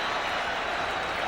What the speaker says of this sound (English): Moving up front, and that's with the crowd noise,